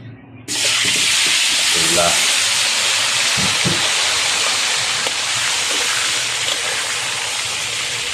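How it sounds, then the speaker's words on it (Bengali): Potatoes coated in turmeric and chili dropped into hot oil, bursting into a loud, steady, hissing sizzle that holds throughout, with a few faint knocks and a brief voice near the start. "প্রথমে আমি আলুটাকে একটু হলুদ মরিচ মাখিয়ে তেলে বেজে নিব।"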